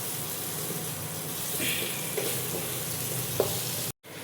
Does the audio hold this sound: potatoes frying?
yes